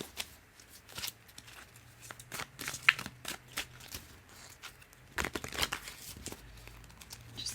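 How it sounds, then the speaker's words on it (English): Papery shuffling and crinkling of tarot cards, in several soft bursts with short pauses, close by and fairly quiet. "shuffling here a bit more."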